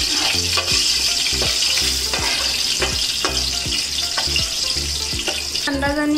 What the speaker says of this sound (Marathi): सो गाईज तेल तापलेलं आहे आपलं, यात मी तमालपत्र टाकलं आहे, गरम मसाले टाकते आपण घेतलेले